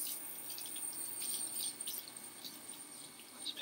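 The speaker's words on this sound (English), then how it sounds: "Wash my hands off." Hands washed under a running kitchen sink tap while cooking steak and stir fry, a soft, steady stream of water, fairly quiet, with no speech.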